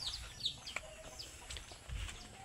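A few short clucks and squawks from chickens, scattered and fairly faint, over a low background rumble.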